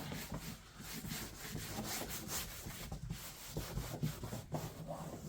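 Paint being stripped by hand from a Yamaha golf cart body that had been sprayed with rattle cans, a steady close scraping and sanding rub with uneven strokes running throughout.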